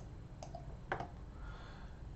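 Computer mouse clicking during work in an online reporting app: two or three faint, sharp clicks, near but quiet, over a low steady background hum.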